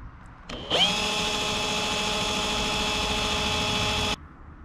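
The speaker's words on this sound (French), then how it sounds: "on met ça sur une perceuse et ça va impeccable" A power drill spins a fishing reel spool with a steady high-pitched whine that ramps up quickly, holds for about three and a half seconds, then cuts off abruptly.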